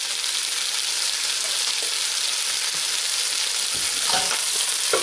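Onions frying in oil in a pan for spicy potato aloo sabzi, a loud, dense, continuous sizzle close by, with a couple of soft stirring scrapes near the end.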